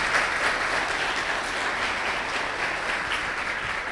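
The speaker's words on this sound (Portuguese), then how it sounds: "Você pode aplaudir o Senhor Jesus" A church congregation applauds steadily throughout, a dense, even wash of many hands clapping with no gaps, fairly loud and close.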